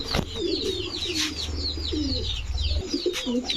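Giribaz racer pigeons coo again and again in low, rolling bursts, close by, while higher chirps flutter above a steady low background hum.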